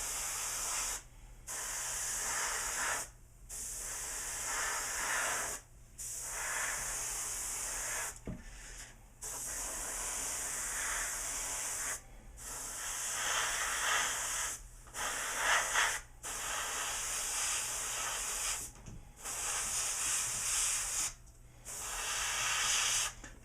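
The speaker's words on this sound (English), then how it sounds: "And I'm gonna spray it." An airbrush sprays metallic paint over black in several coats on a model, giving close, steady hissing bursts of a few seconds each, broken by short silent gaps between passes.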